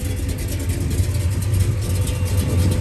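A 1970 Chevrolet Chevelle V8 with a mild cam and 10.5:1 compression idles steadily, a close, even low rumble that stays unbroken through the short stretch with no talking.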